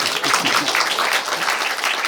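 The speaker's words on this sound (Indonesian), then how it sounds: "Boleh tepuk tangan?" Audience applause at a 70th Vyasa Puja celebration, a dense steady wash of many hands clapping for about two seconds, fairly loud with a few faint voices low underneath.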